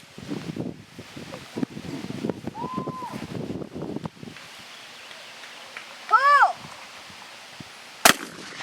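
Shotgun fire at an outdoor range with young shooters, heard as a single sharp, loud blast near the end after quieter handling, rustling and wind noise, with voices talking at moments.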